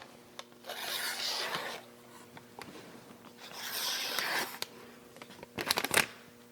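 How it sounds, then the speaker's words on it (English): A freshly sharpened KN Knives Master Hunter blade cuts through crinkled receipt paper, making close rustling, crackling swipes in a few separate bursts, with sharp crisp snaps near the end. "Crinkled up receipt paper."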